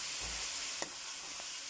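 Meat sautéing for kare-kare in a pan gives a steady, faint sizzle, with a soft clink of stirring partway through.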